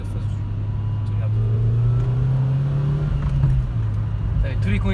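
A Renault Twingo RS engine pulling hard in daily driving, a loud steady low drone rising slightly in pitch over a few seconds, with a voice talking over it.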